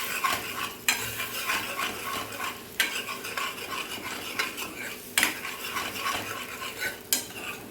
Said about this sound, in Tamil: ஊற்றியாச்சு, நல்லா கிண்டிக்கலாம்.